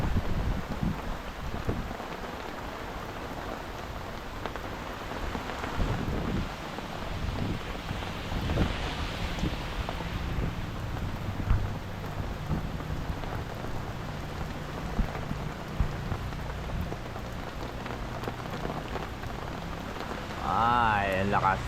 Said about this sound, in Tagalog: Ay, ang lakas ng habagat.